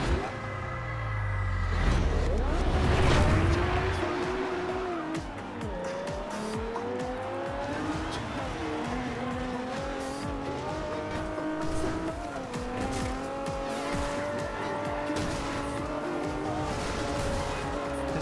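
Racing cars in an off-road video game roar loudly and continuously, tires squealing and skidding through turns while engine pitch rises and falls for the whole stretch.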